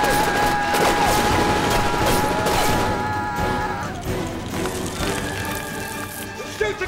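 Rapid gunfire crackles through a chaotic firefight, with dense bursts of shots and ringing tones layered over shouting voices and a steady background roar.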